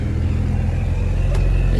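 A car rumbles in reverse while searching for a parking spot at night, its low idle and engine drone steady and close for a brief moment, with a voice speaking over it.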